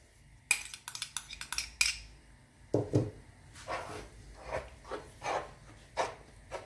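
Dough of warm milk and olive oil being mixed in a bowl for Turkish flatbread: a run of quick clinking utensil strokes, then slower scraping and stirring passes against the bowl, close and fairly quiet, with no speech.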